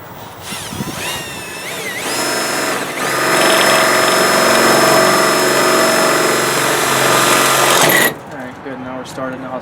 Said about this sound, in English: The drill's gonna hold it anyway.